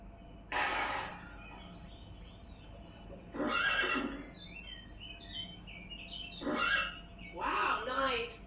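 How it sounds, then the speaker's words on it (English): A horse whinnies four times in short bursts, played as a cartoon-style animal sound effect in a children's find-the-animals game, each neigh loud and close over a faint steady background. "Wow, a horse appears."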